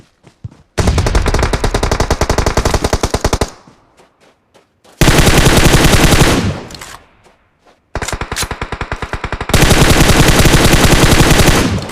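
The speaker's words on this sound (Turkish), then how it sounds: "Beni vurdu lan" Long bursts of rapid automatic gunfire in a shooter video game, three loud sustained volleys separated by short pauses and a few scattered single shots, close and dominant with no talk.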